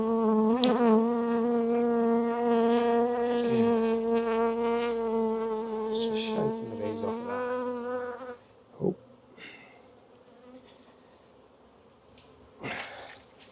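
Honeybees buzzing loudly and close at an opened second hive, a strong steady hum that fades after several seconds to quieter background with a few brief knocks.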